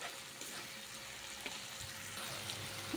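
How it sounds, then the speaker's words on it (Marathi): Ginger-garlic paste fries in a pan for chole, a soft continuous sizzle with faint crackles and occasional light stirring scrapes, heard close and quiet. "बघा आता मस्त आलं लसूण पेस्ट पण भाजत आले"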